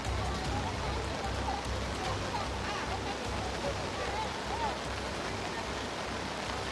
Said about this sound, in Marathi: पावसाचा जोर वाढतोय आणि पाणीच्या पातळीमध्ये सुद्धा वाढ होतीये